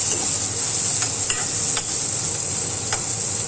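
Onion and green chilli frying in a pan for a paneer roll, a steady loud hiss of hot oil running throughout, with a few faint utensil scrapes and no voices.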